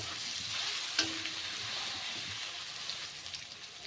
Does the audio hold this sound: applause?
no